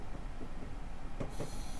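A train rolling in the video game Train Simulator, a steady low rumble of wheels on track with a couple of faint clicks, continuous and close, with no talk.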